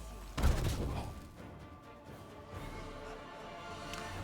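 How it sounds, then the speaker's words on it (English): A magic missile spell is cast in Pathfinder: Wrath of the Righteous, a single heavy impact burst with a rumbling decay, followed by quieter ambient game sound and a faint later thud. "Magic missile against this guy."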